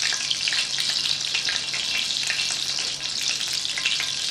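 Catfish sizzling in olive oil in a pan over a high flame, a dense, steady crackle close by with no talk.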